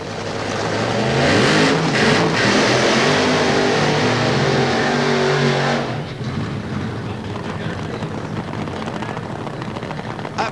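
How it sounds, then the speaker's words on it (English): Drag racing cars do burnouts in a semi-final at Santa Pod in 1991, a loud sustained engine roar with tyre noise that cuts off abruptly, then a rougher lingering rumble, with a commentator talking over it. "Absolutely superb burnouts there from our two ladies in the other semi-final"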